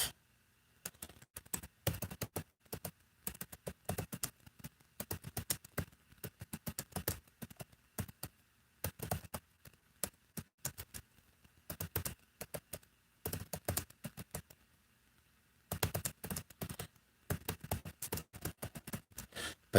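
Rapid, uneven bursts of typing on a computer keyboard, with clustered keystrokes separated by brief pauses and no talking, moderately quiet and close.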